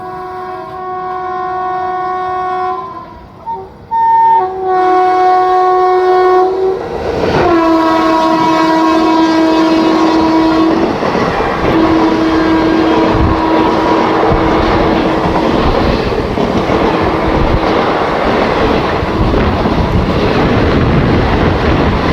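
Banaras Lucknow Intercity Express sounds a long, loud horn in several sustained blasts, then thunders past close by with steady rolling rumble and clattering wheels filling the rest.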